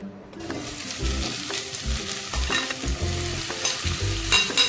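Salted bitter gourd pieces tipped into golden frying onions in a pan, loud crackling sizzle with stirring clatter, close and continuous.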